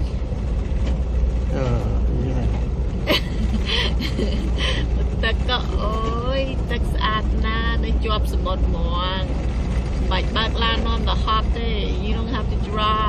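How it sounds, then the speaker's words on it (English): Amtrak passenger train in motion between Los Angeles and San Francisco, heard from inside the car as a steady low rumble that runs the whole time under a person speaking. "Train is moving."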